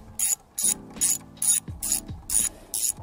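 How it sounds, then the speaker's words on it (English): A 10mm spanner ratchets on a bolt on a KTM Duke 790/890 exhaust, sounding as seven sharp clicking bursts in an even rhythm, close and loud. "got a 10mm spanner in the back just to loosen off that bolt"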